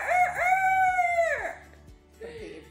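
A voice imitates a rooster's crow, one long drawn-out cock-a-doodle-doo, loud and close, followed by a short softer vocal sound.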